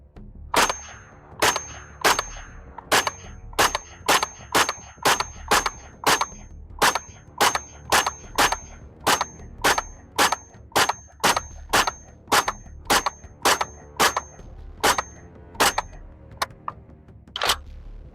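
FN PS90 rifle firing 5.7 rounds at a melon, about twenty loud, sharp, close shots in a steady, evenly spaced rhythm, each with a short ringing tail.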